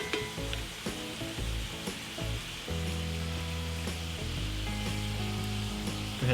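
Meat filling for a from-scratch shepherd's pie sizzles steadily in a pan right after Worcestershire sauce is added, a continuous close frying hiss with stirring and a steady tonal hum underneath, no talking.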